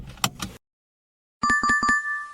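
A car seat belt buckle gives two quick, sharp metallic clicks up close. After a short silence, a bright electronic chime plays a few rapid tones.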